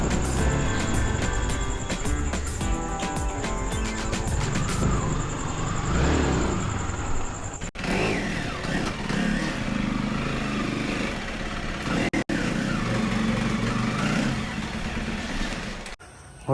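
A motorcycle rides into a hostel, its engine droning steadily nearby with an uneven, revving hum that briefly cuts out a few times toward the end.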